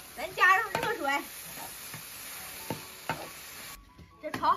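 Beef and tomatoes sizzling in a wok as hot water is poured in, with spoon scrapes and clinks over a steady hiss and short bursts of talk near the start and end.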